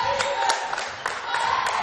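Basketball crowd at a high school tournament game cheering and rising to their feet, a dense steady roar of voices with scattered claps and shouts throughout.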